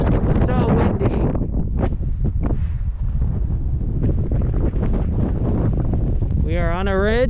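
Loud, steady wind roars and buffets the microphone on a Grand Canyon ridge along the South Kaibab Trail, with brief voices and exclamations breaking through the gusty rumble.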